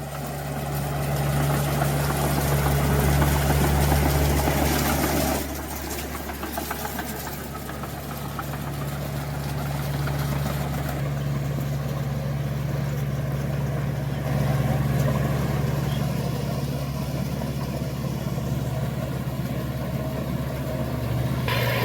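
A Komatsu D2 bulldozer's diesel engine runs steadily throughout, a loud close-up drone with a low harmonic hum that dips briefly around the middle before rising again.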